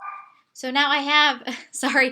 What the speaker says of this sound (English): you might hear my dog barking in the background.